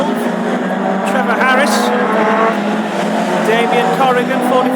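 Classic hot rod race cars lapping the oval at Lochgelly, their engines droning and rising as they pass, continuous beneath a commentator talking over the action.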